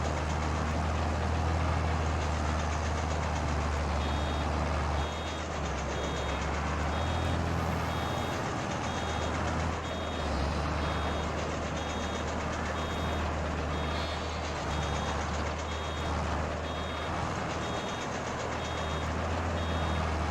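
A tractor working a field in Farming Simulator 22 hums along with a low, steady engine drone, a rhythmic run of high beeps sounding through the middle and later stretches.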